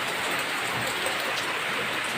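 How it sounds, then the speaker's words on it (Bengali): Steady rain falls outside a home during a daylong downpour, a dense, even hiss of drops that stays constant and fairly close, with no voices over it. "দেখো বাইরে বৃষ্টি পড়ছে"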